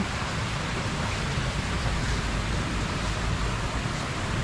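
An artificial waterfall splashes in a seating corner of a Chiang Mai cafe, a steady close, even wash of falling water with no other sounds.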